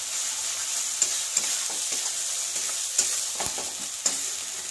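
Onion, ginger and garlic stirred and frying in a pan, a steady close sizzle with occasional soft scrapes and taps of the spoon, no voices.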